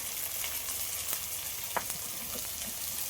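Green chilies fry with salt and turmeric in a pan, giving a steady, close hiss of sizzling oil broken by a few soft stirring clicks.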